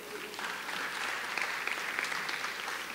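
An audience at an arts and culture summit claps steadily in dense, continuous applause for about three seconds.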